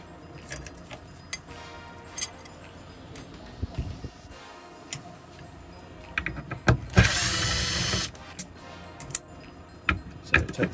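Small metal Torx screws being backed out of the casing of a Bosch MED17.5 ECU from a VW Golf GTI, giving scattered clinks and ticks of a driver and loose screws, with one louder sustained scraping burst near the middle.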